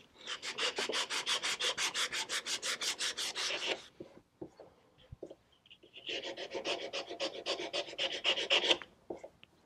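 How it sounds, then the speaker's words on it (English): Rhythmic 150-grit sandpaper strokes rubbing a wooden chair arm by hand, a fast steady series of scratchy passes, a short pause with light taps, then another run of strokes, close by. "See, I'm sanding up into this corner."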